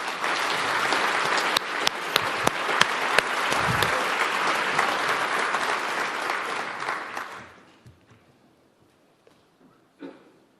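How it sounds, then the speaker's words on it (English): Sustained audience applause for the Pope at a World Food Day event marking FAO's 80th anniversary, loud and dense with sharp claps for about seven seconds before fading to a few scattered claps. "Let's give the applause to the Holy Father"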